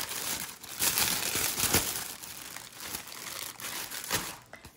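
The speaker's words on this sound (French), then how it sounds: "Donc, on a les petits sachets individuels comme ceci." Small individual plastic sachets of diamond painting beads crinkled by hand, with close, irregular rustling bursts throughout and no talking.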